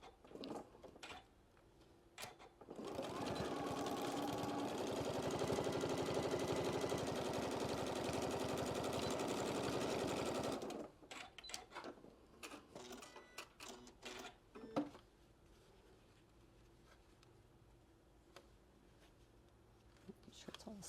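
A sewing machine fitted with a heavier-duty size 14 needle stitches fabric for a bucket hat, one loud continuous whirring run of about eight seconds, close up, framed by quieter handling clicks and rustles before and after.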